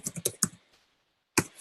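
Fast keystrokes on a computer keyboard, a quick burst of several clacks, a short pause, then one more cluster of taps, close and crisp.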